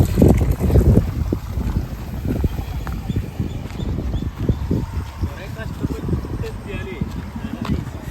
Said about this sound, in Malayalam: നല്ല കാറ്റുണ്ട് കേട്ടോ ഇവിടെ.